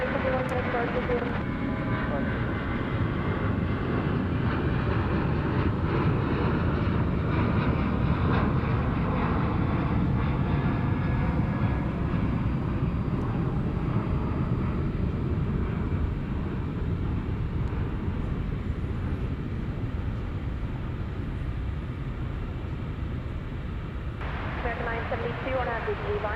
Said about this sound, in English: you hear that that flight was cleared for takeoff even before this one lifts off from the runway